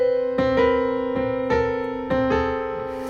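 Jazz piano block chords stepping down chromatically with only the root note moving, about six struck chords landing in a loose, even rhythm, each ringing and sustaining clearly with no talking.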